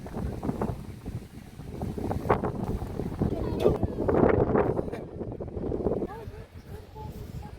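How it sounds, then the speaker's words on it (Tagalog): Strong wind gusts buffet the microphone at a hillside flower farm and garden during drizzly weather, a continuous rushing roar under people talking throughout. "Tapos ang sobrang lakas ng hangin dito."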